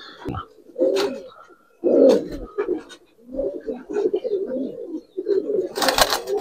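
Giribaz and colouring pigeons coo in bursts at close range, with flutters and scuffles between calls and a brief bright rustle near the end.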